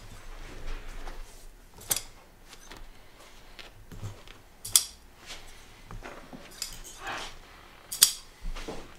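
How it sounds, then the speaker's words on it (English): Scissors snip loose threads on an upholstered slipcover in a few sharp, scattered cuts, close and fairly quiet, with soft handling rustle between them and no talking. "I'm just going to trim up a couple of this little loose ends here for the client"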